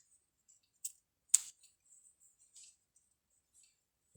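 Faint, crisp snips of scissors trimming the tails off a paper card decoration, a couple of sharper cuts among soft light clicks in a quiet room.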